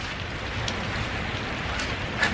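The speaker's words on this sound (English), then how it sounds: "It's been raining pretty much all morning." Steady rain falling outdoors on a gloomy morning, a continuous even hiss of drops with no voices and no thunder.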